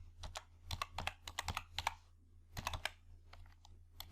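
A computer keyboard clacks in quick irregular bursts while a formula is entered in Excel: sharp, close keystrokes with short pauses between groups, and no voices.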